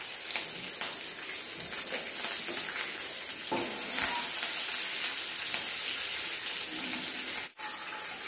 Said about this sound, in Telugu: ఇది కొంచెం ఫ్రై అయిపోయిన తర్వాత మనం కరివేపాకు, పచ్చిమిరపకాయలు యాడ్ చేస్తాం.